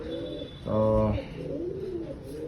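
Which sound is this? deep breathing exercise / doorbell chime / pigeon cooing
pigeon cooing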